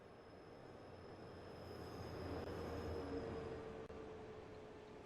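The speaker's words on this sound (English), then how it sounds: "the first train to arrive is the 10:01 Great Western Railway service to Bristol Temple Meads" A Great Western Railway service rolls into Bath Spa station, a low rumbling train noise that swells gradually, with a faint high squeal from the wheels.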